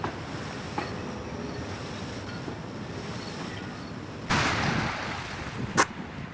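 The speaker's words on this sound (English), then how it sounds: "Choppier water, a little more wind. Again, this is chop coming off of the shore." Choppy water slaps against a small sailboat's hull near shore while steady wind roars across the microphone, with a louder gust-driven splash near the end.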